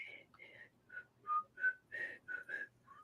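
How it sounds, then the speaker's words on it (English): Someone whistles the Andy Griffith theme tune as a string of clear, close whistled notes in a bouncy, uneven rhythm, with a faint low hum underneath. "I thought I just whistle the Andy Griffith themes"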